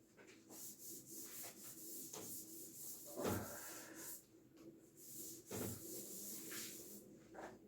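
A hand rubs out writing on a board with soft, fairly faint scrubbing strokes and a few louder swipes in an irregular rhythm.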